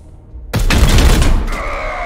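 A sudden loud burst of rapid gunfire in the video game Warhammer 40,000: Chaos Gate - Daemonhunters erupts after a moment of quiet, fading into a ringing tail.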